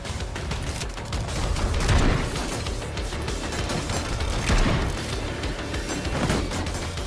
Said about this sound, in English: As you can see, they actually fire a lot more shots than the smaller turrets do.